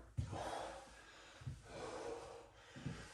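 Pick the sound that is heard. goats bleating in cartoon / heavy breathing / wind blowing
heavy breathing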